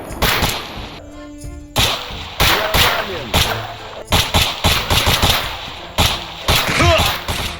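Gunfire from the video game Stalker EFP comes in loud, rapid bursts of automatic shots, close and sharp, with short gaps between volleys.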